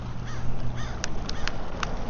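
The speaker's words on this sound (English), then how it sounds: "These 2 seagulls are going after it." Gulls calling over San Diego Bay, harsh caw-like squawks repeating several times close by against a steady background of wind and ambient noise.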